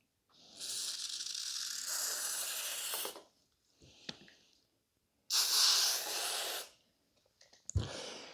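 Aerosol cleaner hisses in two long bursts along a Glock 22 Gen 3 pistol slide and into its grooves, with a short faint spritz between them, then a sharp metallic clack close by at the end.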